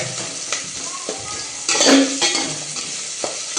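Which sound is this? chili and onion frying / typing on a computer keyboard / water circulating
chili and onion frying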